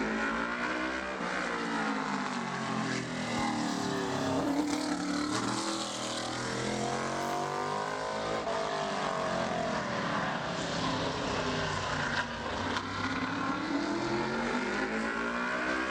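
Modified race car on a qualifying lap at Bowman Gray Stadium, a loud, rough engine roar that holds steady and sweeps through speed changes, with stadium noise behind it and no clear talk.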